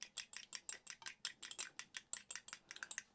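A large egg being whisked briskly with a fork or whisk against a bowl for a corn casserole, giving quick, regular clinking taps in a steady rhythm, close and fairly quiet with no talking.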